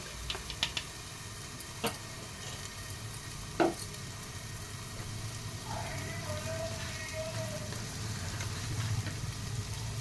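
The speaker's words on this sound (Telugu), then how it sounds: "చిన్నలో పెట్టి వేపితే మగ్గిద్ది ఈలోపు రొయ్యింది మసాలా వేగింది రొయ్యలు వేసేద్దాం రొయ్యలు వేసేసాం" Prawns frying in masala over a low flame, a faint, continuous sizzle under a low background hum, with a few sharp clinks and one brief tonal squeak partway through, and no one speaking.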